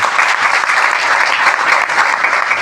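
Steady, dense applause from a seated audience at a stage event, loud and continuous throughout with no talk over it.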